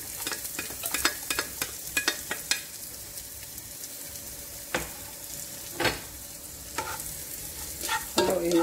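A spoon stirs onion and corned beef frying in a pan, giving repeated close scraping strokes over a constant soft sizzle, with a louder clatter at the end.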